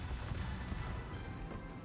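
Secondary guns on a warship in World of Warships fire in a dense, continuous barrage of booming blasts and crackling reports, loud and close, rolling without a break.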